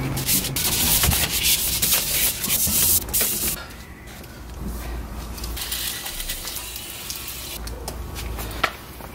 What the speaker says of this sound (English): alright, so that's been now wet sanded